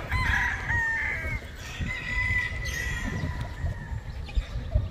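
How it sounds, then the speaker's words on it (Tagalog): Fighting roosters crow repeatedly, some near and some farther off, their long calls overlapping above a low, steady rumble of background noise in a yard full of gamecocks. "Ganda ng mga manok dito"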